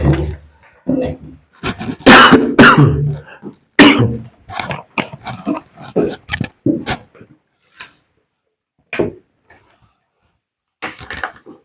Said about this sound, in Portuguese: engasgado aqui com a tosse